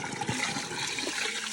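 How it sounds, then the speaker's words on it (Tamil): Rice being washed in water for biryani, a steady sloshing, splashing wash close by with continuous liquid noise throughout, no talking. "நல்லா கழுவி ஊற விடணும்."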